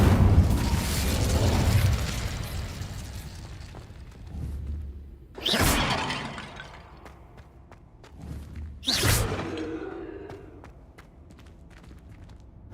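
Incendio fire spells in Hogwarts Legacy roar out as two sharp, loud fiery bursts several seconds apart. Each burst decays into crackling rumble over a low, moving background of combat noise.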